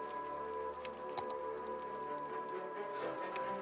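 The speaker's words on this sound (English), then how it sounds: "Really wish it would stop raining, at night" Steady rain falls at night at a race-day venue, a continuous patter with scattered louder drops and a low background hum, and no one speaks.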